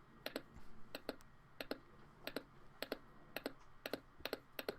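Computer mouse or keyboard clicking while paging through comic thumbnails: crisp, close clicks in small pairs and clusters at a steady, unhurried pace over a faint room hum, with no talking.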